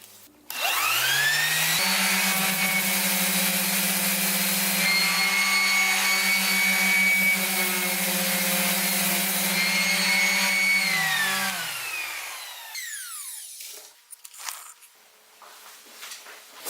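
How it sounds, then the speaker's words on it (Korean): A Bosch GEX125-150AVE random orbital sander fitted with 220 grit paper starts up and runs at a steady, loud whine with a low hum underneath, then spins down and stops, leaving faint clatter. "샌딩 자체는 보쉬 쪽이 약간 더 빠르게 지워집니다"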